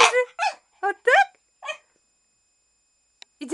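An excited Shih Tzu whines and yips before a walk, giving a string of short high-pitched whimpers and yelps, close and loud, in quick bursts separated by brief pauses.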